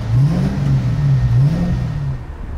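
A car engine roars steadily at high revs in top gear, loud and close, fading slightly at the end, during a classic car cruise event on the coast, with no voices.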